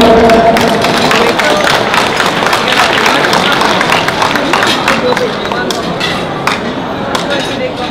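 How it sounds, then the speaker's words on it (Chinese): An audience at a Taiwanese association gathering at a California resort gives a choir a round of applause, with dense, steady clapping that fills the whole stretch and thins slightly toward the end. "那请大家给他们热烈的鼓声的掌声"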